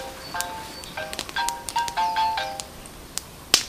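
Telephone ringing in a comedic bacon advertisement, a series of bright electronic ringtone chimes in quick irregular bursts, fairly faint and with no talk over them.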